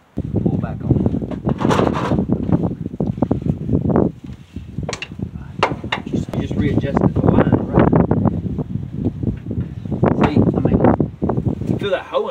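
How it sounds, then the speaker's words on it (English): Wind gusting outdoors and buffeting the microphone, loud roaring rumbles that rise and fall across the whole stretch, with people talking beneath the noise. "The wind's blowing now."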